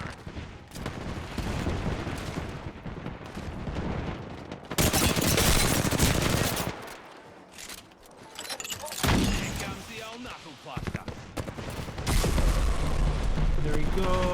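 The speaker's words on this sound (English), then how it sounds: "Stand back, knuckle clusters firing." Knuckle cluster explosives going off in Apex Legends, a burst of several loud pops and booms from the firing charges, mixed with game gunfire and a voice speaking over the top.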